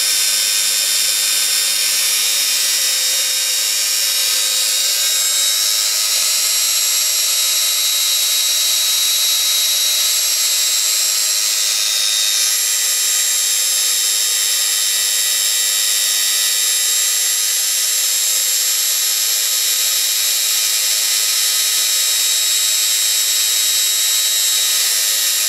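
A generator motor under load gives a loud, steady, high-pitched whine that holds almost constant throughout, with no voices.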